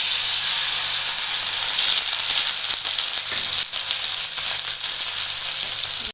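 Ginger, green chili and gondho bhadali leaf paste sizzles steadily in a wok, a loud, continuous close-up hiss of frying with brief crackling bursts and no talking.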